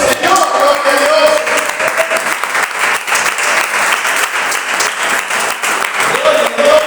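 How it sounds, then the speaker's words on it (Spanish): A church congregation claps loudly and continuously, a close, ragged burst of many hands, with a preacher's voice and shouts rising over the clapping at the start and end. "Den un aplauso al Señor"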